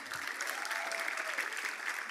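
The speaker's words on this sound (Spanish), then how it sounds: "Denle un aplauso a Katina" A church audience applauds, a steady dense wash of many hands clapping together at moderate distance, with no voices rising above it.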